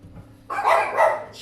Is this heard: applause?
no